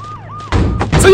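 A police car siren in a mobile game gives a brief rising and falling wail, then is cut off by loud thumps and crashes within about a second.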